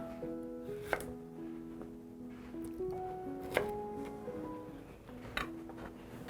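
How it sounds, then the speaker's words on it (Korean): A knife chops zucchini into bite-size pieces on a cutting board, giving a few spaced, crisp knocks under steady background music. "주키니를 아, 먹기 좋은 크기로 한번 잘라 볼게요"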